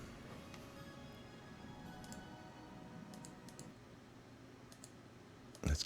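A computer mouse clicks in scattered single and double taps, faint and close, over a quiet background hum, ending in a louder bump.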